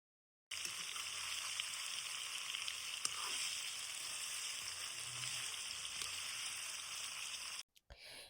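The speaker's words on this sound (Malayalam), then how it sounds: "ചിക്കൻ ഒന്ന് ഹൈ ഫ്ലെയിമിലിട്ട് നല്ലൊരു ഗോൾഡൻ കളറാവുന്നവരെ ഒന്ന് ഫ്രൈ ചെയ്തെടുക്കാം" Masala-coated chicken fries in hot oil over a high flame, giving a steady, fairly loud sizzle that runs unbroken for several seconds before cutting off near the end.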